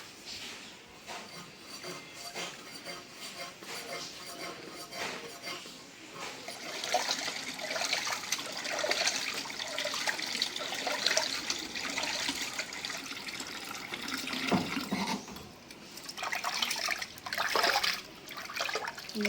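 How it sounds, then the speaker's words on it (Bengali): Baim eels being rinsed clean in water, with steady splashing and swishing running on and off, close by, with no talking. "মাছগুলি পরিষ্কার করে ধুয়ে নিলাম"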